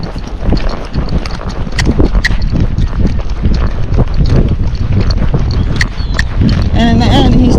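A young Missouri Fox Trotter horse spooking, its hooves clip-clopping loudly and unevenly on the ground, with wind rumble and a voice talking over the steps.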